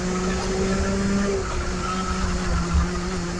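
A race car engine drones steadily with a sustained tonal whine, its pitch dipping and shifting slightly as the throttle eases and picks up again, no voices.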